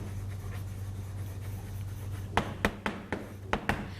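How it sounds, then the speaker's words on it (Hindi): Writing on a classroom board during a biology lecture: a series of sharp, quick taps and strokes in an irregular cluster over a steady low hum, fairly close. "यहां पर लिखती हूं स्टूडेंट्स हैबिटेट"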